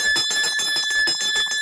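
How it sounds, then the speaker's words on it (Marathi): A hand bell rings insistently in a domestic scene, a rapid, loud metallic clanging of about a dozen even strokes with bright sustained ringing tones, heard alone. "मामा तुम्ही घंटी का वाजवलीत?"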